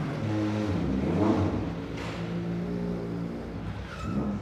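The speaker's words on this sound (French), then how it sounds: "C'est notre voiture de course qui a gagné déjà 2 fois le championnat de la Réunion." A rally race car engine, a twice-champion machine on La Réunion, revs and drones nearby with shifting pitch, rising and falling across several seconds without speech.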